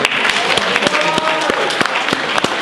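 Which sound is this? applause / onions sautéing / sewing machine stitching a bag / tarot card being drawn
applause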